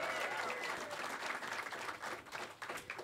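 Crowd applause for a sponsor at a live storytelling event, continuous busy clapping from a seated audience that stays fairly even throughout, with some voices faintly audible beneath it.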